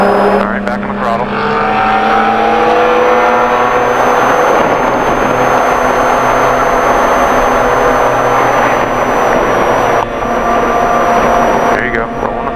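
A car accelerates hard on the Summit Point race track, its engine a loud, sustained close-up roar with rising and shifting pitch and a brief dip before climbing again.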